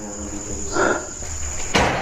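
A door is kicked from behind with a sudden loud knock, following a thin steady high whine and a brief scraping rattle.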